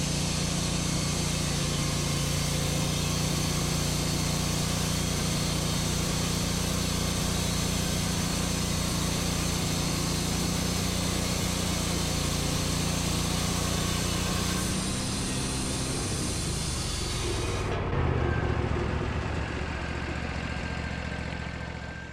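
Wood-Mizer LT40 Wide sawmill cutting dry bitternut hickory: a long, loud, steady engine-driven saw roar that shifts and drops off near the end as the cut finishes.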